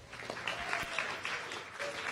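Audience applause for a speaker at a science café talk on marine life, a brief steady patter of clapping from a modest crowd, moderately quiet.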